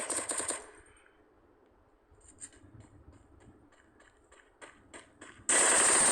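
Rapid gunfire from the woodpecker gun in a video game, a brief burst up front followed by a steady run of sharp, evenly spaced shots, then a loud sustained noise burst at the end.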